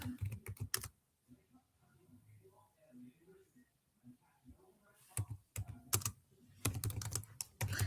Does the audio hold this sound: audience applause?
no